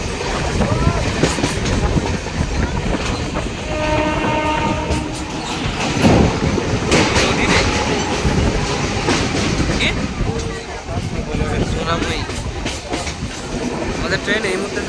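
A Panskura–Digha local train rolls into Ashapurna Devi halt with loud, continuous rumbling and rattling of the carriages, clacking wheels and brief squeals, with voices talking over the noise.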